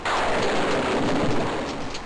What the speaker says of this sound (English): And then there's thunder and lightning. It starts to rain.